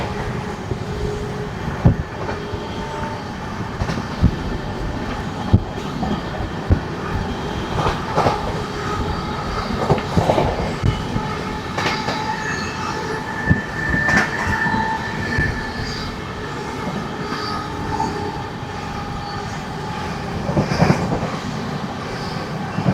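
Seshadri Express with LHB coaches pulling out of Samalkot Junction, a steady rolling rumble with wheel clicks over rail joints and occasional squeals building throughout, close and continuous with no talk.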